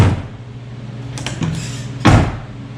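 A Can-Am Defender UTV half door shuts with a solid thud around two seconds in, preceded by a lighter clunk, against a low steady engine-like hum.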